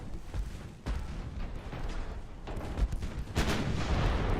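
Heavy naval gunfire from battleships in the Ultimate Admiral Dreadnoughts game, a string of booming, rumbling salvos that thicken and grow louder toward the end, with no voices over them.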